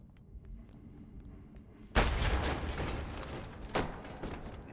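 An M67 hand grenade detonates in the game BONELAB: after a quiet stretch, one sudden sharp blast erupts into a long crackling, rumbling tail, with a smaller secondary thump following.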